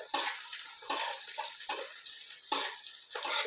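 Onion and green chilies frying in a pan for kachori filling, a soft sizzle punctuated by four evenly spaced sharp scrapes of stirring, quiet and close with no talking.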